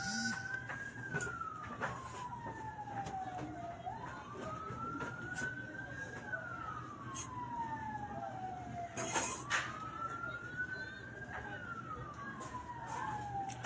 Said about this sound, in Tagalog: Ayun na, ay bumbero na yan